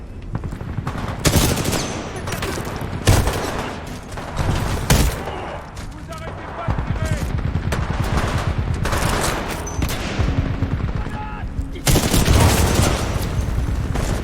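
Rapid bursts of automatic gunfire crack out in Titanfall 2, dense volleys broken by brief pauses and a few heavier booms, loud and close, with occasional game voice lines in between.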